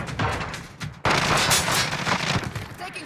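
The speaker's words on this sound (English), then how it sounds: "Allied cluster strike inbound." Allied cluster strike explosions in a video game, a loud dense barrage of overlapping booms and crackling gunfire, with a sharp heavy impact about a third of the way in followed by sustained rumbling blasts.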